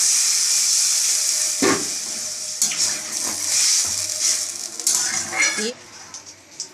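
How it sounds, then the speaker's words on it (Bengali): Chicken pieces fry in butter in a kadai, giving a loud continuous sizzle broken by several scraping stirs and clanks of the pan, with a brief voice at the end. "এদিকে আমি কড়াইতে মাংসটা আলাদা করে ভেজে নিচ্ছি বাটার দিয়ে"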